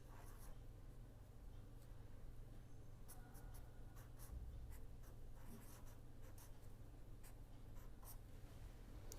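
Chalk or marker writing out equations on a board during an engineering lecture on beam models, with steady scratchy strokes and taps over a constant low room hum, no talking.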